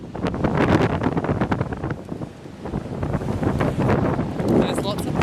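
Strong gusting wind on a windsurfing beach in Baja California, Mexico, buffeting the microphone in heavy rumbling bursts that rise and fall, with surf and muffled voices buried underneath.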